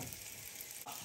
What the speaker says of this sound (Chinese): 我把这个侧面再给它稍微立着再煎一下